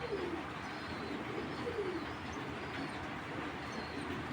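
Dragon breed pigeons coo in a loft, with two or three low, soft rolling coos rising over a steady background hum.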